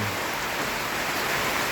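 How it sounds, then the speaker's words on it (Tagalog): Steady rain falls in Bicol during a stretch of windy, stormless wet weather, a dense even hiss that fills the air without pause. "Ulan lang talaga."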